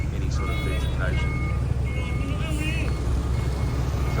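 Trucks and a motorbike rumble along a busy street, a steady low engine drone with horn-like tonal bursts and traffic clatter, while someone talks over it.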